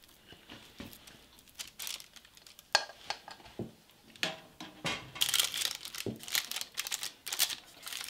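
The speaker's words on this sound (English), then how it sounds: "I'm going to put this in the bottom of my baking dish, and then I'm going to press it down to form our crust" Keto pecan crust dough pressed by hand into the bottom of a baking dish, a close run of soft crinkling, squishing and patting sounds that come in irregular bursts and grow busier toward the end.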